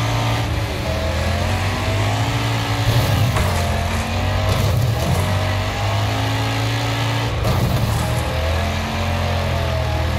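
Cars revving and grinding through a Wreckfest demolition derby in a field, with steady loud engine drone and several heavier impact bursts, no talking.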